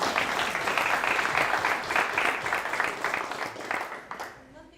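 Audience clapping at a Kubernetes and cloud native meetup in Berlin, a steady burst of applause that gradually thins and fades out near the end, with a voice briefly speaking as it dies down.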